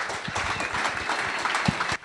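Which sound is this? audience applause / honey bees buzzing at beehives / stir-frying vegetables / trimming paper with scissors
audience applause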